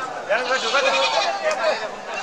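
Black Bengal goats bleat at a Sunday livestock market at Chatmohar Railbazar, several wavering calls overlapping close by amid a busy crowd murmur.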